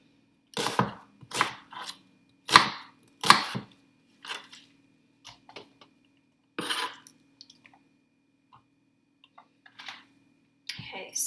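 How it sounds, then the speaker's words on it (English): A knife chops through an onion into chunks for a slow-cooker lamb stew, giving a series of sharp, close thuds on a board in irregular bursts with short pauses between, with a few fainter taps and no talking. "I chop it into thirds, and then into thirds again, because I like it to be quite chunky with my stew."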